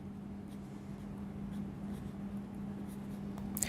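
Pen or marker writing out a math expression: a faint, steady scratching over a constant low hum, with no talk.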